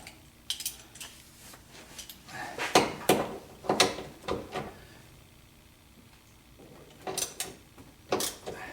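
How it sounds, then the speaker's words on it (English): Close metallic clanks, scrapes and tool clicks come in irregular bursts as a steering column bracket under the dash of a 1976 Corvette restomod is tightened against the firewall, with quiet pauses between the sharper knocks. "When I tighten that bracket underneath, pull it snug to the firewall."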